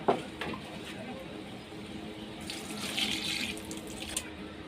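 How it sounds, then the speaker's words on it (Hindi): Two glasses of water pour into a cooking pot holding okra, beef and tomatoes, a steady splashing gush that swells midway, heard close in a home kitchen with someone speaking in the background. "और इसमें मैं डालूंगी 2 गिलास पानी।"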